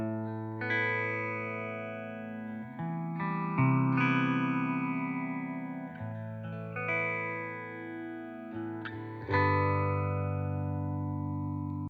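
Clean electric guitar played through a super phaser pedal into a TONEX twin reverb clean amp model, sustained chords and arpeggios swirling with a sweeping phase effect, loud and close with no talking.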